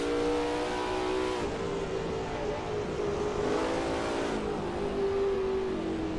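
Race car in the 1939 Preis von Bern online race in Assetto Corsa, engine droning steadily near full throttle with slight pitch shifts from gear changes, close and loud, no talk.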